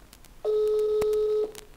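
A single steady telephone tone sounds for about a second, clear and fairly loud, as a footballer from Górnik calls a teammate in quarantine. No voices are heard.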